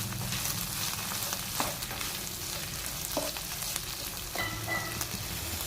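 Sweet corn drops into a hot tempering of oil, garlic and peas in a pan while making mango avalakki uppittu, giving a steady close sizzle with a few brief stirring clinks, no voices.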